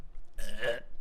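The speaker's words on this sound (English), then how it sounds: "Burp." A single short, throaty burp, close and fairly loud, with nothing else around it.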